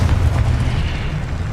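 A Confringo spell blast in the video game Hogwarts Legacy gives a dense, rumbling boom that fills the whole short moment, loud and close with no clear separate impacts.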